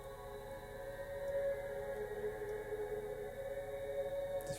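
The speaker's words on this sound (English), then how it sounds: "it's basically this cosmic reverb" Clean strummed guitar holds an A minor chord drenched in an ethereal, shifting cosmic reverb, a soft sustained wash of drifting tones at low volume with no distinct attacks.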